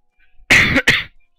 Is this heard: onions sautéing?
no